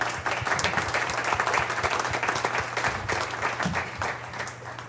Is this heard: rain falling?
no